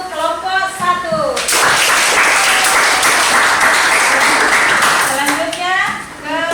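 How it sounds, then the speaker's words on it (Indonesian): A classroom of students claps loudly for a group presentation during a lesson on the structure of the Qur'an. Talk comes first, then several seconds of thick, sustained clapping, and voices return as the applause fades. "Beri tepuk tangan untuk kelompok 1."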